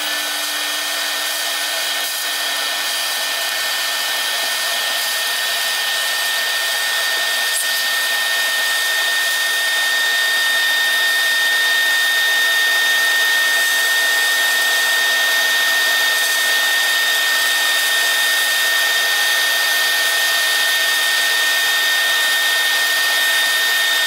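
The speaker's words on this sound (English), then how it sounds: "Probably do the hoovering." A vacuum cleaner hoovers metal dust from inside a Ferguson Videostar 3V22 / JVC HR3330 top-loading VHS recorder, a steady loud high-pitched whine that runs unbroken and close throughout.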